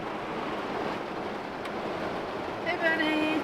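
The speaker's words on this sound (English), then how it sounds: "Quite a flow and quite some wind out there." Steady broadband wind and rushing water around a small narrowboat with a new hull being water tested, a continuous loud outdoor roar with faint tonal squeaks near the end.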